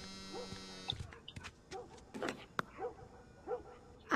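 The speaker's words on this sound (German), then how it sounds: "Hund? Ich hoffe, der bleibt draußen." A dog barks repeatedly in the video game The Last of Us Part 1, several separate barks spread across the moment, not loud, mixed with other in-game noises.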